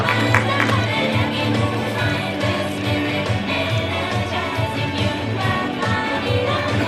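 Crowd applause and cheering at a press conference for the Pertamina Eco RunFest 2024 in Indonesia: a continuous, fairly loud wash of clapping for about seven seconds, with a voice and music underneath.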